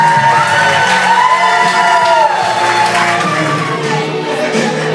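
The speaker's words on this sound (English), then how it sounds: "and everyone applauds" Wedding guests cheer, whoop and applaud after the bride and groom kiss, a loud, dense crowd roar held steadily throughout with shouting voices on top.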